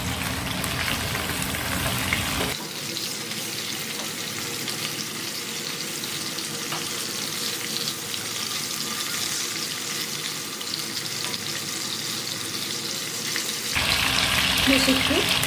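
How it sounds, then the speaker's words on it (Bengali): Chicken pieces fry in a pan as one is turned to cook the other side. A loud, crackling sizzle opens and closes the stretch, with a softer, steady hiss in between. "পিসটা উল্টে আর একটা পাশ ভাজতে দেবো।"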